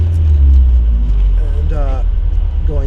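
Vintage Volvo P1800 engine idling low and steady while the car reverses, a deep close rumble running throughout with a person talking over it.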